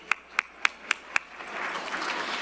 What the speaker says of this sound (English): let's give one more round of applause for all of the dedicated players and staff in each of our winning chapters today